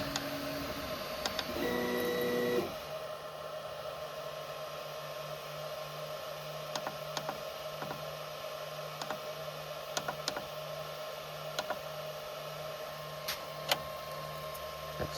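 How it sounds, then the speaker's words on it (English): An old 3D printer runs with a steady mechanical hum and faint intermittent ticks and clicks, a brief louder motor whine near the start, no talking. "it is an old 3D printer"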